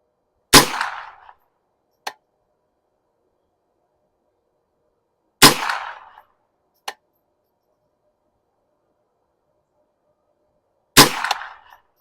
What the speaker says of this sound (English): I'm going to make some adjustments and put a couple more shots down range